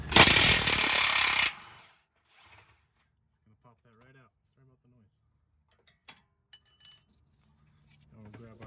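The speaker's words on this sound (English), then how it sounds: "I'm going to come with my impact to make this a little easier." An impact wrench rattles hard in a short, loud burst on a nut of a 2007-2012 Nissan Altima lower control arm, followed by quiet clinks of tools and someone talking briefly.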